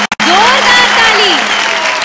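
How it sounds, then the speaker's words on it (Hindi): Loud audience applause erupts at a Bhojpuri singing reality show, a dense burst of clapping with sliding whistle-like tones above it, following a brief pair of sharp clicks at the start. "जोरदार ताली।"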